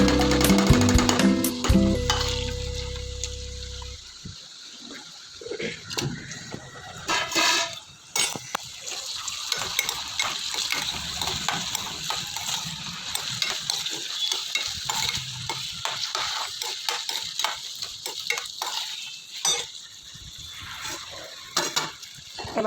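Potatoes go into hot oil with cumin seeds in a pan and set off a loud sizzle, then a steady frying hiss with repeated scrapes and clinks of a spatula stirring against the metal.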